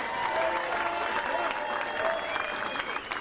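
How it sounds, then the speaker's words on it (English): Crowd applauding at a GOP primary victory speech for governor, with cheers rising over the steady clapping. The sustained ovation runs for the whole stretch without letting up. "Please give everyone who voted today for the Guadagno team a round of applause"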